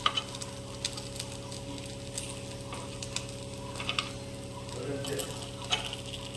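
Upvas appe, fasting-style dumplings, sizzle in an appe pan as they are flipped over, a steady low frying hiss with scattered small ticks and clicks against a constant background hum.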